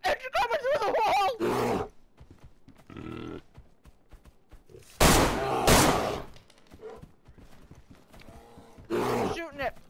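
A bear in the survival game DayZ roars loudly in several harsh bursts close by, with frantic voices talking between the roars.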